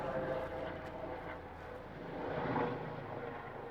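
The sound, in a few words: medical helicopter flying over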